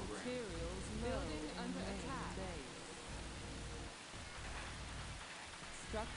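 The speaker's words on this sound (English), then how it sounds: "Is acid rain or something?" Steady rain hisses quietly through a match of the strategy game Earth 2150, a soft, even wash of falling drops with someone talking over it at the start.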